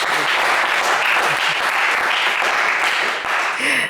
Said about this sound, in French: Est-ce qu'on peut applaudir Tierno?